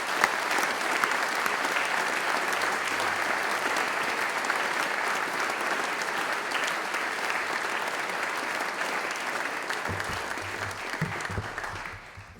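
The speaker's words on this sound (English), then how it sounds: "So if you can just join me giving them a nice round of applause." Sustained applause fills a school assembly at a sport colours service as students clap for their coaches, a dense, even wash of many hands holding steady for about twelve seconds before cutting off.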